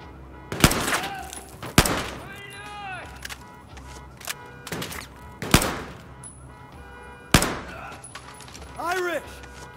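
Gunfire in the shooter game Battlefield 4: four or five loud, sharp single shots spaced a couple of seconds apart, with voices calling out between the blasts.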